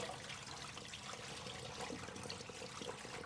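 Hot pasta water poured from a cooking pot into a kitchen sink, a steady rushing splash and trickle heard fairly close and continuous throughout, with no talking.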